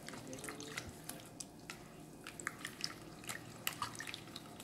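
Rice flour appam batter is mixed by hand in a bowl, producing soft wet squelches and drippy slaps in an irregular rhythm, quiet and close with no talk over it.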